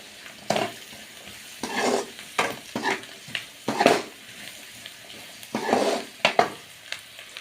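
Snake gourd stir-fry sizzles in hot oil with turmeric, while a spoon scrapes and stirs the pan in repeated bursts over a steady, close frying hiss.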